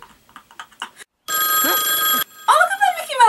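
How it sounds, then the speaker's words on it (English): Mickey Mouse novelty telephone ringing in the animated film A Goofy Movie, a loud sustained electronic ring that stops abruptly, preceded and followed by animated character voices. "Oh, look at that Mickey Mouse phone!"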